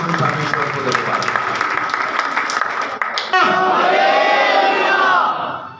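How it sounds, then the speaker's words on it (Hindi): At a Sunday worship service, a congregation breaks into loud, sustained clapping, then the sound swells into a crowd of raised, cheering voices at close range. "जोरदार ताली बजाएं"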